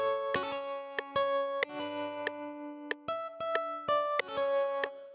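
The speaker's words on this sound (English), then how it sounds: "this is also a guitar coming from Strum" Clean electric guitar from the AAS Strum plugin using the S Type Pro Rhythm preset, a bright strummed and plucked rhythm pattern with sharp repeated attacks and ringing chords, heard alone at moderate level for an Afrobeats-style beat remake.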